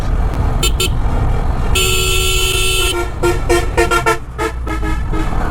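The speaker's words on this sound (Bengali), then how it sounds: "এটা অবশ্যই মোড়ে হর্ন দিতে হয়" A vehicle horn honking at a downhill bend on a broken mountain road, with short toots followed by one long blast and a rapid burst of beeps over steady engine and road noise.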